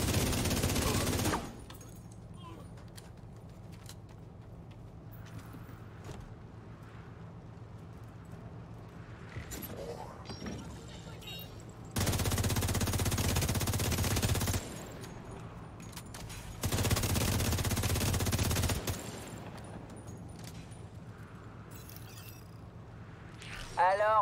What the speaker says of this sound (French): Je tire sur l'ennemi!